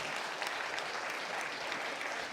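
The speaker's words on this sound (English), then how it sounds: "So let's have a round of applause for George." An audience at a camp soloist performance applauds steadily and loudly for George Weisinger, a dense wash of clapping that holds without a break and with no voices.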